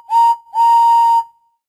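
Steam whistle of Thomas the Tank Engine in a children's video game, two clear toots, a short one followed by a longer held blast, loud and close with no talk.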